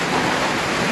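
Steady rain falls on Tayak Hill in Nagcarlan, Laguna, a dense, even hiss of rainfall close by with no pauses and no voices.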